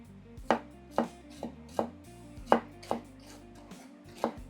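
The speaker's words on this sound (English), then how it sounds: "and just give them a little chop" Knife rough-chopping serrano peppers on a cutting board for homemade salsa, about eight distinct thuds spaced roughly half a second apart, close and clear with no talking.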